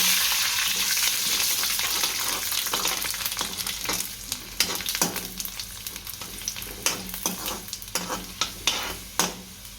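Dry red chillies and garlic cloves sizzling and frying in hot oil in a pan while being stirred, a steady loud crackle with scraping strokes and pops growing more distinct toward the end.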